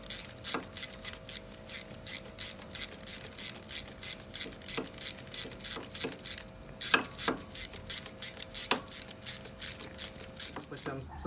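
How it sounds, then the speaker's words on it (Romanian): A ratchet wrench clicks steadily in quick repeated strokes while tightening bolts on a CF Moto 500 engine, close and loud, with a few sharper metallic knocks and no talk. "Le strângem prima oară ușor la mână și apoi vom pune dinamometrica să le strângem definitiv."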